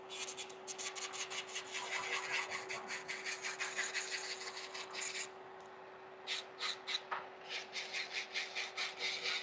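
A hand file shapes a gel nail with quick, even rasping strokes, soft and close, a steady run that pauses briefly midway and then resumes in separate strokes, over a faint constant hum.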